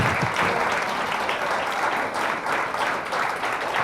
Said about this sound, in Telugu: అందరూ ఒకసారి గట్టిగా చప్పట్లు కొట్టాలి